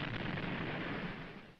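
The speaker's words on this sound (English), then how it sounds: "The gunfire support ships had their hands full, supplying called fire for the assault troops." Naval gunfire support ships firing on a shore for assault troops in the Pacific, a dense continuous rumble of distant heavy gunfire and blasts, fairly quiet, with no talk over it.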